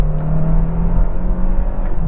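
A 2022 Hyundai Tucson Limited Hybrid accelerating from the cabin, a steady low engine drone with a faint whir, holding even and moderately loud throughout without any speech.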